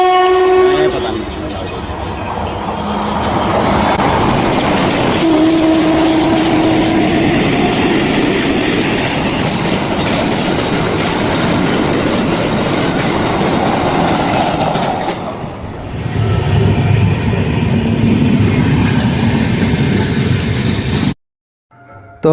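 A Vande Bharat Express train pulls into a station, its loud rumbling and rolling clatter filling the scene with horn-like tones, the roar dipping briefly before swelling again and ending abruptly.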